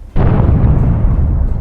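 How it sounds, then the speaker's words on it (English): A Russian tank blows up after a drone strike, a single sudden, very loud blast followed by a sustained deep rumbling roar that fades only slightly. "This might be the most powerful tank explosion in the entire history of the war"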